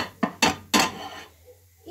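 Three sharp ceramic knocks in quick succession as a plate for pancakes is set down on a hard counter, followed by quiet kitchen background.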